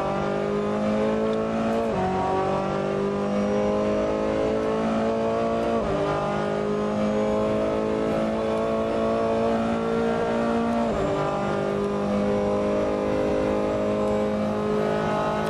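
A Ferrari 488 GT race car engine in a video game screams continuously at high revs, its pitch climbing and dropping sharply with each gear change, loud and unbroken.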